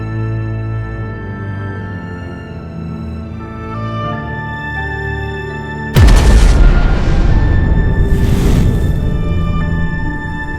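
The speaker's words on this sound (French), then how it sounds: "la déflagration de l'explosion des bureaux du centre de commandement du Zeppelin" A sudden loud explosive blast of command offices cuts in over a steady hum, followed by a long rumbling, crackling roar that slowly fades.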